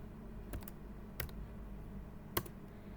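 Several short bursts of clicking keystrokes on a computer keyboard as code is typed, close and fairly faint over a steady low background hum.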